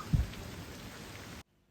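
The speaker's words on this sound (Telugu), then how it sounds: "చూడండి ఎంత బ్యూటిఫుల్గా వర్షం పడుతూ ఉందా" Steady rain falls outdoors with a dense, even hiss and a soft low thump near the start, then cuts off abruptly at the end.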